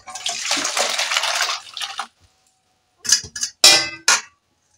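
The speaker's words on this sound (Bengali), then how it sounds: "তা এবার আমি ঢেলে নেব।" Magur fish curry broth with papaya is poured out of a cooking pot, making a steady close splashing pour for about two seconds, followed by a pause and a few sharp metallic clinks.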